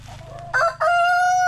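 A rooster, a chicken on a farm in the Philippines, crows loudly and close by, a single strained, rising call with brief clucks before it, over faint low background noise.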